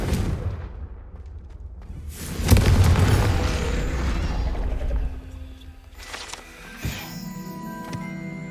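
A Confringo fire spell detonates in the Hogwarts Legacy video game, a loud booming blast that rumbles and fades, followed a few seconds later by a smaller sharp impact amid game ambience.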